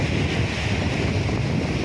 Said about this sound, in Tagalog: Sarap sa hangin dito kawayan.